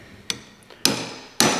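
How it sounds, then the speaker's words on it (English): Carpenter's hammer striking a steel punch while marking parts during an old grinder restoration: three sharp metallic blows, the last two loud and ringing, with a faint tap between. "Typically, you wouldn't use a carpenter's hammer with a steel punch."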